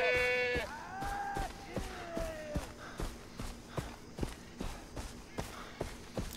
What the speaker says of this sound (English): Hi, goats!